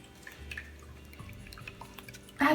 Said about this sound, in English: That's Roxy's water fountain.